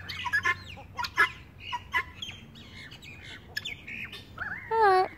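Guinea fowl on a grassy farm give a series of sharp, harsh squawking calls in short bursts, close and fairly loud against a quiet background.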